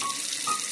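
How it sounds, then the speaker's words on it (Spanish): A water tap is turned on for handwashing: a brief, steady hiss of running water from a faucet into a sink, soft and close. "Primero abrí el grifo para lavarme las manos."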